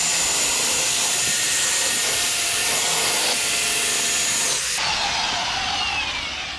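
Power sander with a disc grinding cured epoxy off a wooden dinghy hull, a loud steady whine close up that drops in pitch near the end as the disc slows, no voices.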